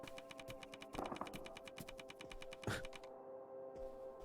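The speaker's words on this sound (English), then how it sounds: "Every time I walk, I'm like a typewriter. Click." Rapid, even clicking footsteps in the video game Open Roads, like typewriter keys, tick on steadily in a quiet room, a couple of louder knocks standing out before the clicks briefly drop away.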